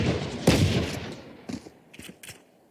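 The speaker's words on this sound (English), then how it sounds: "See the bullets going wild with the Odin." Odin machine gun firing in Valorant during a pro esports match: a loud burst of gunfire up front, then a few sharper scattered shots fading out, with busy game ambience underneath.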